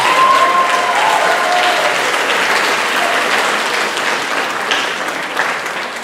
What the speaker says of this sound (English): Another big round of applause for Jacob GG and Eric Jones.